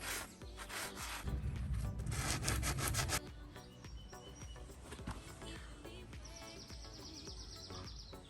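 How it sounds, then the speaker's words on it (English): A sanding sponge rubs back and forth over a damaged, curb-rashed Tesla Model 3 wheel rim, with quick close scratchy strokes that grow louder in a dense burst, then ease into softer, lighter rubbing. "Just sand it down. We got our little sanding sponge."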